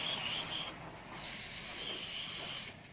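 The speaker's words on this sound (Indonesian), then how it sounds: "kita semprot dulu sobat ya dengan pelumas agar memudahkan kita nanti untuk pencabutan pin" Lubricant sprays from an aerosol can onto a stuck piston pin on an automatic scooter engine, a steady close hiss with a brief pause midway and a short break near the end.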